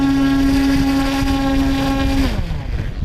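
An FMS Pitts V2 1400mm RC airplane's electric motor runs up to a loud, steady whine in windy open air, then spools down abruptly near the end as the throttle is cut.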